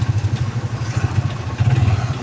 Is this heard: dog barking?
no